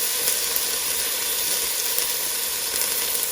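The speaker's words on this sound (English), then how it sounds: "I'm going to just let this saute until the onions begin to sweat" Onions sautéing with turmeric, black pepper and thyme in a pan for yellow rice with sausage give off a steady, even sizzle. It is soft and continuous, with faint crackles and no talking.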